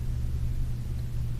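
A basement generator hums steadily with a low, even drone and broad background hiss, unchanging throughout and moderately quiet.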